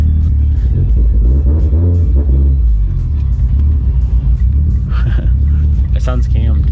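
A bagged widebody 550 WHP Evo 10 with a cammed engine accelerates on a highway, its steady loud engine rumble and revving running throughout the cabin as people talk over it.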